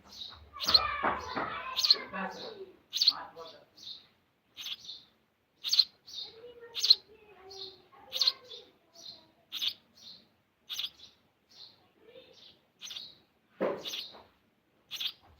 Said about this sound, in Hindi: चिड़िया को प्यास लगी है।